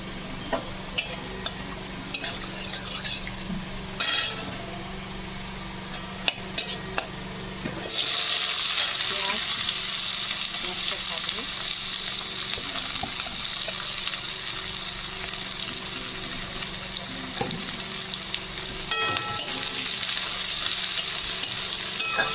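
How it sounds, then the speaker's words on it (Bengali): Bay leaf frying in hot oil for a chicken curry: light pan clatter and taps at first, then a loud, continuous sizzle takes over with occasional utensil knocks; no voices. "ব্রাউন কালার হবে ততক্ষণ ভাজবো"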